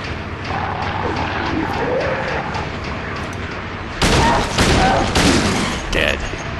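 Gunfire in the survival horror game Silent Hill 2 plays over a steady, murky game ambience. A cluster of loud, sharp shots arrives in the second half of the stretch.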